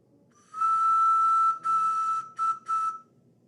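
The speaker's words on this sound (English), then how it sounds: "It's a little bird whistle." A small toy bird whistle blown in one long steady high tone, then three shorter toots, loud and close with no other sound around it.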